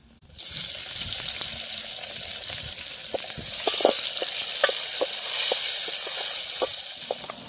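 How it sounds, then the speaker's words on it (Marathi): Loud, steady sizzling as tomatoes go into onions and green chillies frying in oil for a mutton curry cooked outdoors by a river, with a few clinks of a spoon against the pan and no talk. "कांदा आणि मिरच्या मस्त शिजल्यात आता टोमॅटो टाकून घेते"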